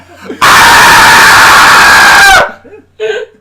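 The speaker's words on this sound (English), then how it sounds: "Let's get all of the screams out." Several people scream loudly together in one long, piercing, sustained burst lasting about two seconds, followed by a shorter shriek after a brief pause.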